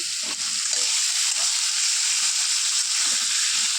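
Spices are stirred through hot mustard oil in a frying pan for a mustard-based chorchori, a steady close sizzle with soft scraping strokes throughout.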